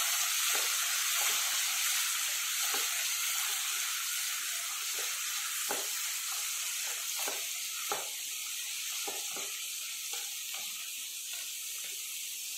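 Chopped tomatoes hit a hot pan with onions and ginger pieces, sizzling in a steady, bright hiss, with soft stirring clicks and taps scattered throughout, close and without talk.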